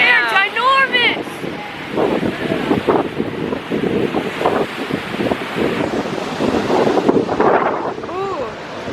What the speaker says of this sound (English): look at those waves. They're ginormous!